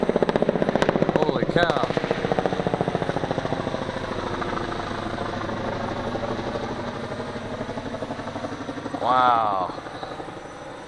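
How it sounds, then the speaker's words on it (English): A helicopter flies low overhead, its loud, steady rotor chop and engine drone filling the whole stretch and swelling briefly near the end, with a man's surprised exclamations over it. "Sounds like I got a helicopter flying overhead here."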